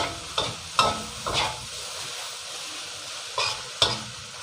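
Rice stir-fried in a wok with shrimp paste chili sauce, an even sizzle punctuated by about five scraping spatula strokes in uneven rhythm, close and clear with no talking.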